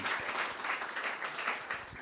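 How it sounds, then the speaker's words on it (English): A cybersecurity meetup audience applauds in a continuous, fairly soft spread of many clapping hands, even in level throughout with no clear voices. "A round of applause"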